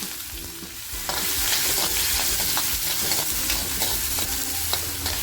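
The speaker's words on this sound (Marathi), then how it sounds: "तेल छान तापले कांदा जो घेतलाय कापून तो कांदा टाकते" Chopped onion drops into hot oil in a kadhai, the sizzle swelling suddenly after a quiet start and then crackling loudly and steadily with stirring scrapes, close by.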